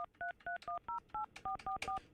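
A telephone keypad dials a rapid run of about ten short, evenly paced touch-tone beeps, clear and alone with no talk over them.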